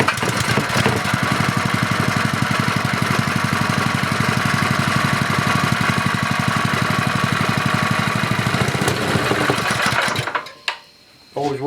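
A small Honda-clone engine runs after its carburetor was cleaned, a loud, even, fast-firing putter close to the microphone that cuts off abruptly near the end.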